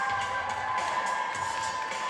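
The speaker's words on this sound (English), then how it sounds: "Loudest the crowd has been today." A crowd cheers loudly and steadily at a high school 5A provincial basketball game between the Western Canada Redhawks and Jasper Place Rebels, with sustained shouting filling the gym.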